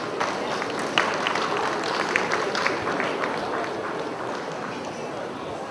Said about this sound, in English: you give us a round of applause